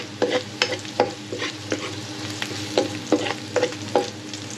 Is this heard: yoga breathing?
no